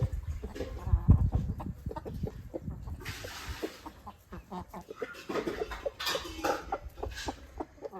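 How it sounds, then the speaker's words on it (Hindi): Chickens, including a black hen, cluck and call intermittently outdoors, mixed with rustling and scattered farmyard noises, moderately close. "देखो ये ब्लैक मुर्गी है"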